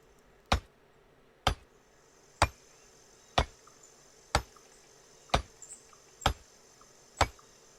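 Hammer strikes in the video game Journey of Life, sharp evenly spaced blows landing about once a second, eight in a row over a quiet background hum.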